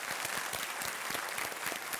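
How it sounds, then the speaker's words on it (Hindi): A studio audience on a Hindi quiz show set claps to welcome a guest, a dense, even patter of hands held at a moderate, fairly soft level for the whole stretch. "इनका स्वागत किया जाए तालियों के साथ"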